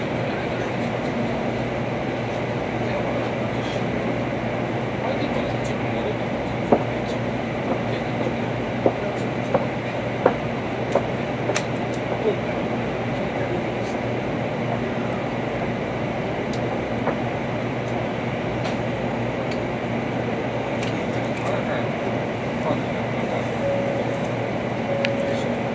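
Inside a JR West Shinkansen passing through Kyoto Station at night, with a loud, steady rumble of the train running throughout and a few faint clicks along the track.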